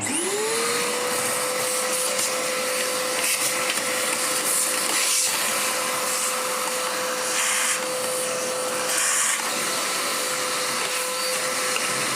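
A Dirt Devil DD6114 upright vacuum cleaner, a 1990s Electrolux Contour clone awaiting restoration, spins up and runs steadily with a loud whining motor drone and airflow rush that stays constant throughout.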